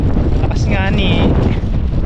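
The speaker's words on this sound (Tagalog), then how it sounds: "Lakas po ng hangin" Strong wind buffets the microphone at sea from a small fishing boat, a loud constant roar that fills the whole stretch, with a voice briefly rising through it.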